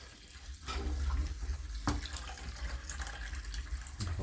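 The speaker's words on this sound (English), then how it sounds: "I'm just letting most of the water drain out by itself." Water drains out of freshly dyed yarn sitting in a sink, a soft, continuous trickling and gurgling heard close up and fairly quiet, with no talking.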